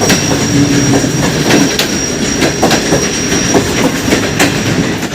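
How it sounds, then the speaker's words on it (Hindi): A passenger train pulls into a station in Pakistan, loud and close: a heavy continuous rumble with rhythmic clickety-clack of wheels over rail joints and high squealing from the wheels, with no voices. "माशाल्लाह ट्रेन पहुंच चुका है।"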